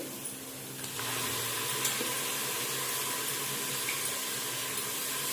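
Ginger garlic paste and tomato frying in a pan for mutton biryani, a dense, even sizzle that swells after a second and holds steady, close and moderately loud, with no voices.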